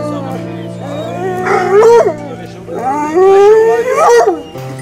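Nivernais hunting hounds, a pack of sixteen, bay and howl together in two long rising-and-falling choruses, loud and fairly near, outdoors at a hunt with running dogs.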